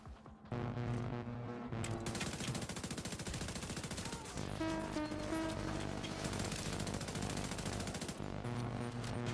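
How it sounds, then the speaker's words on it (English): Sustained rapid assault rifle fire in the shooter video game The Division 2, loud dense automatic bursts hammering almost continuously for several seconds with only a brief pause, game sounds layered underneath. "Assault rifle feels good."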